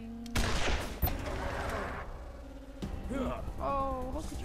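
Gunfire in Wasteland 2 comes as a couple of sharp shots and some rattling impacts, with faint game voices and tonal effects mixed in around them.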